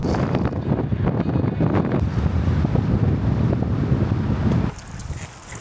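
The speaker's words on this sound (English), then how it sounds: "The wind is the worst thing when you're in a gazebo." Wind gusts around an outdoor gazebo at a mobile pizza stall, buffeting the microphone with a loud, continuous rumble that drops off abruptly near the end.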